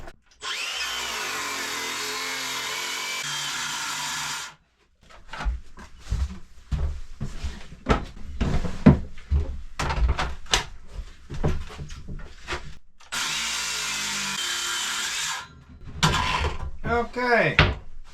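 A power saw rips a piece of wood along a ripping guide during a wooden boat restoration, loud sustained cutting bursts at the start and near the end, separated by clattering handling noises and knocks.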